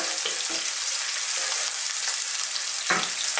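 Chopped onion sizzles steadily in hot oil in a pan for a Filipino chicken and taro-leaf coconut dish, with a dense continuous crackle and a few soft stirring scrapes, close and unvoiced.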